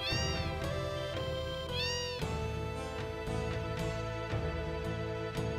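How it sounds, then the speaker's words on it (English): Several cats meow repeatedly in Final Fantasy VII, with overlapping rising and falling calls that are loud and close, alone without talk. "Look at all the cats!"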